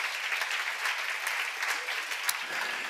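A church congregation claps together during a sermon, dense steady applause that holds evenly throughout at a moderate distance.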